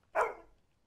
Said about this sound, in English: I just barked.